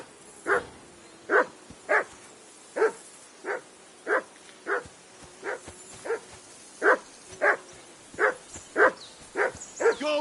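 A dog barks repeatedly in the video game Kingdom Come: Deliverance 2, about fifteen sharp, evenly spaced barks at moderate distance with faint whimpering between them, and no talk.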